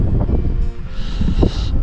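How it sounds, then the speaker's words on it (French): Gusty wind by a small lake, a steady broadband rush close to the microphone with a brief stronger gust midway, no voices. "il y a du vent."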